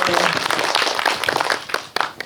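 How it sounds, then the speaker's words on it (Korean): Audience applause at a film festival screening talk, a dense burst of clapping from many hands that thins toward the end, loud and close. "박수 부탁드리겠습니다."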